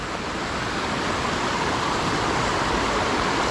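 Water rushes continuously over rocks where a hiking trail to Tat Mok waterfall in Phetchabun crosses a stream, a near, even wash of flow that stays level throughout.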